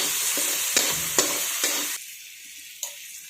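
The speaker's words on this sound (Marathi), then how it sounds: "आता हे मसाले ते आपण सर्व परतून घेऊया." Chili powder, mutton masala and ginger-garlic paste sizzle in hot oil as they are stir-fried for a cauliflower-potato dish. A spatula clacks and scrapes sharply several times over a close, steady hiss, and the hiss drops away near the end.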